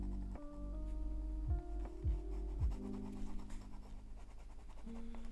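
Pen nib scratching acrylic ink across sketchbook paper while painting animals, giving a close, continuous dry rasp with a few sharper strokes over a low steady hum.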